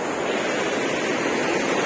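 Water rushes steadily from a spring-fed stream near Vadri lake, a continuous broadband wash that may be mixed with wind buffeting the microphone, with no voices.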